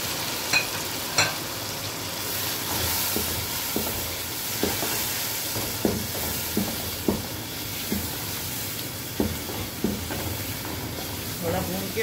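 Tomatoes frying in a pan with salt and turmeric for aloo gobhi, a steady close sizzle with repeated scraping stirs and utensil taps throughout.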